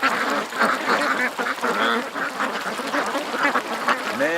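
A flock of ducks quacking together in a dense, overlapping chorus at close range, recorded low to the ground, steady and busy throughout with no pauses.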